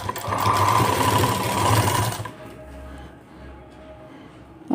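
Sewing machine stitching piping onto a blouse, a loud, fast, steady mechanical whirr running for about two seconds and then stopping, followed by quiet handling sounds.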